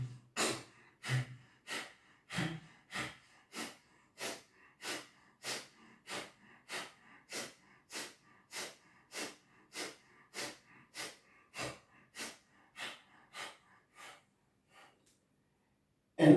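Heavy yoga breaths during a breathing exercise, a long run of about twenty forceful, evenly spaced exhalations, close and dry in a quiet room, gradually fading in strength toward the end.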